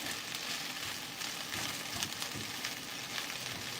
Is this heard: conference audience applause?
no